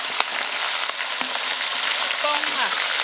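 Chicken pieces stir-fry in a generous amount of hot oil in a wok, giving a loud, dense, continuous sizzle with occasional scraping stirs and a brief voice underneath.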